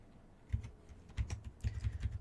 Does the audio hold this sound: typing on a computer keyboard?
yes